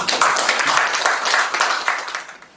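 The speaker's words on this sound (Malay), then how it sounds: "beri tepukan pada awak dulu" An audience at a coaching session gives a sustained round of applause, many hands clapping closely together. The sound stays full for most of its length, then eases off toward the end.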